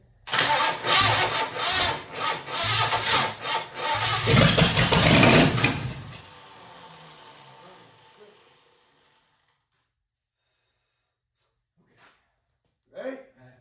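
A 1966 Ford Mustang engine cranks rapidly for several seconds, then catches and roars loudly before dying away to silence, followed by a couple of brief clanks near the end.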